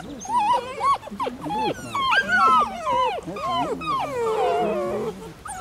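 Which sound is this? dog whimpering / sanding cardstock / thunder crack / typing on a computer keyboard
dog whimpering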